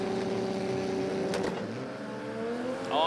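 Australian six-cylinder drag race cars run Barra against RB engines. A loud engine roar holds steady, then a sharp crack and a rising rev come near the end, with no voices.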